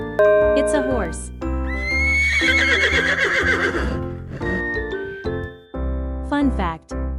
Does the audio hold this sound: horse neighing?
yes